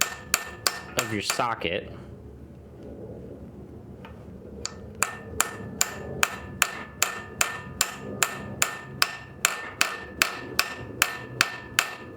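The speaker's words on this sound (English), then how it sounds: "You're going to come in here with your socket and just give it a nice tap." A hammer taps a socket into the engine block of a 1971 Datsun 240Z during an LS swap, starting with a few quick strikes under brief talk, then a long run of evenly spaced, sharp, close metallic taps.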